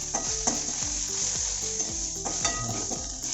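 Chicken with spices and turmeric frying in oil while being stirred, giving a dense continuous sizzle with repeated rhythmic scraping strokes of a spatula against the pan, close and loud.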